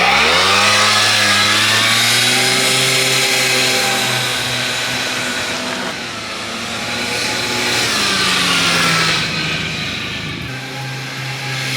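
A stock 50cc moped engine, just repaired, idles and revs continuously up close, its buzzing two-stroke tone rising and falling in pitch over several seconds with no talking.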